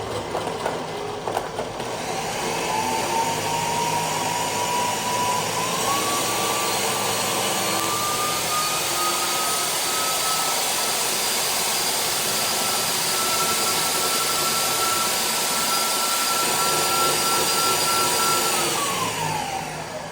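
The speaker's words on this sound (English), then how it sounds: "start it off low and then gradually get faster with the blades so it blends it nice" A blender whirs loudly and continuously making a green smoothie, its motor pitch climbing as it speeds up and then dropping near the end, with a dense roaring wash throughout.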